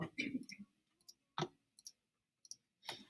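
A computer mouse clicks on text boxes in a slide presentation, giving a handful of sharp, separate clicks with pauses between them and brief bits of voice in between.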